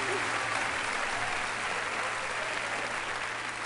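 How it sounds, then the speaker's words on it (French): Audience applause at a live performance, a dense, even wash of clapping from a crowd, steady and moderately loud throughout with a low hum underneath. "On les applaudit très très fort."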